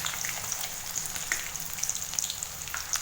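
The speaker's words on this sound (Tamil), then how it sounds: "பட்டை, கிராம்பு, ஏலக்காய் எண்ணெயில் பொரிஞ்சதுமே கட் பண்ணி வச்சுருக்கிற சின்ன வெங்காயத்தை சேர்த்துருங்க" Chopped shallots with cinnamon, cloves and cardamom fry in hot oil for a Chettinad chicken dish, giving a steady close sizzle with scattered pops and crackles and no talking.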